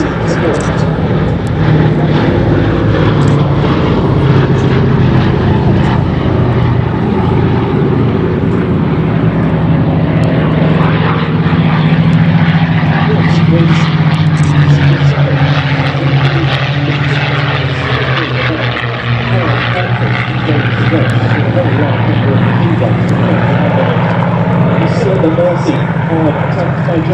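A B-17 bomber's propeller engines drone loudly and steadily as it flies at an air show at Duxford, with a commentator talking throughout.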